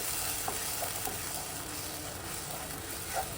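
A paste of mustard, poppy seed and green chilli sizzles in hot oil as it is stirred in a pan, an even, low crackling hiss with light scraping.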